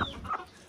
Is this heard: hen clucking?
yes